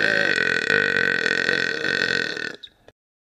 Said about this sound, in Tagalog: at dighay.